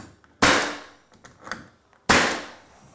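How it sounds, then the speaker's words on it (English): A nail gun fires nails into pine trim set level with the drywall around a pocket door frame. Two sharp, loud, close pops land about 1.7 seconds apart, with faint clatter between them. "I'm gonna put my piece of pine in here, hold it even with the drywall, and shoot it in."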